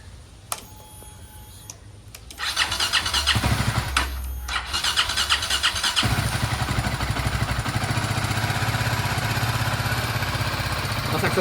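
A BMW G310GS motorcycle with a freshly changed Sprint air filter cranks briefly, catches, and settles into a steady, loud single-cylinder idle that runs on unbroken.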